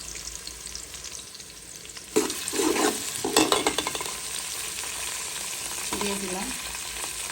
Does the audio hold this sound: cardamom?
yes